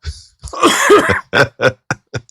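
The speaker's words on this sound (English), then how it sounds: "I'm leaving in this coughing." A person coughs close by, a rough burst followed by several short, sharp coughs spaced out in a ragged rhythm.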